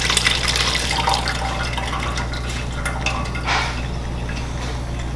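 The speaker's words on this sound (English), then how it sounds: "pour it in the strainer without making a mess" Lobster bisque pours from a pot into a kitchen strainer, a continuous close splashing and trickling with drips and light clinks of metal cookware, without talk.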